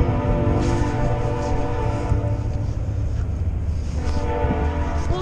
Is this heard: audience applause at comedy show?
no